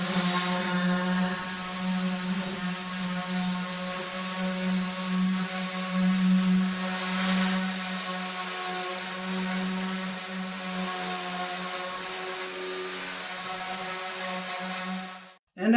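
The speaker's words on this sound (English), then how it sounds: "We're going to sand those down nice and smooth, make sure they blend in with the rest of this frame" A power sander hums steadily while dowel plugs on a wooden fence-picket planter frame are smoothed, giving a continuous close whirring drone with a strong tonal buzz that cuts off abruptly at the end.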